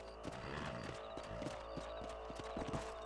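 Horse hooves clip-clop at a steady trotting rhythm in the video game Red Dead Redemption, close and clear over a soft game ambience.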